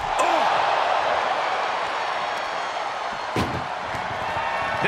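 Ambulance door slamming shut in the wrestling video game WWE 2K24, a loud impact near the start and another around the middle over steady crowd noise, with no speech.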